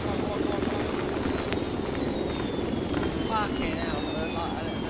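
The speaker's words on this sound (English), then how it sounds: "Chopper." A helicopter in the Arma 3 video game, King of the Hill mode, drones steadily with a continuous rotor and engine roar throughout, mixed with game ambience in the background.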